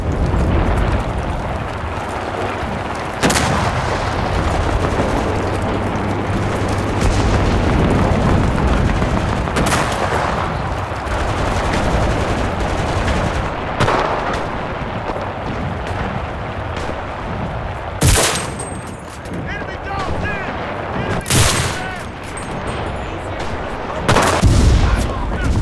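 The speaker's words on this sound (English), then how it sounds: "you hear gunshots in the distance, explosions every 5 seconds" A chaotic battle in the free-to-play shooter Enlisted: constant gunfire crackles while heavy explosions boom every few seconds, loud and dense throughout, with occasional sharper blasts standing out.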